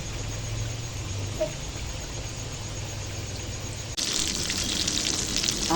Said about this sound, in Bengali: এখন বেগুন ভাজছি